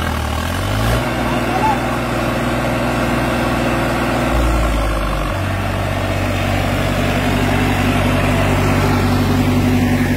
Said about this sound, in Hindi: भाई पूरे जोर लगवाए जा रहे ट्रैक्टर के तगड़े वाले